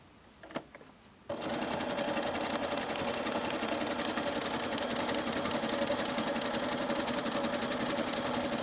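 Sewing machine stitching applique fabric, starting after a brief quiet moment with a couple of clicks, then running as a loud, continuous rapid mechanical whir close by.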